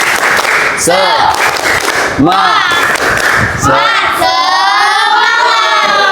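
A classroom of children performs the tepuk semangat rhythmic clapping chant, loud unison shouting in short bursts punctuated by sharp group claps and thumps, ending in a long drawn-out collective yell.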